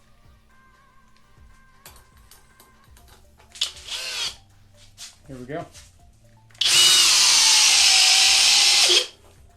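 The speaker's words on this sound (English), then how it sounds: "let's do a timber lock with the flex drill" A FLEX cordless drill whirs in short bursts, then runs loud and steady for a few seconds as it drives a timber screw; brief speech comes beforehand.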